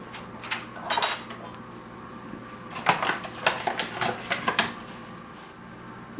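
Cups of flour added to a mixing bowl during baking: a few clattering knocks of a measuring cup against the bowl, then a quick cluster of taps and scrapes, close by with no talking.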